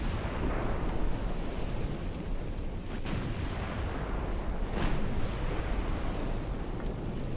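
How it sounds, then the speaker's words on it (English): Naval gunfire and shell impacts in the WW2 battleship video game Ultimate Admiral Dreadnoughts: a continuous dense rumble of cannon fire and ocean noise, with two sharper cracks standing out, all without talk. "even though we are getting those ricochets"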